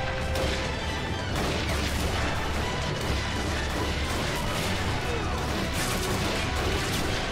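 Dense rifle and battle gunfire from the video game Army Men of War, a continuous loud wall of shots and crashes with no pauses, in a beach landing with toy army men.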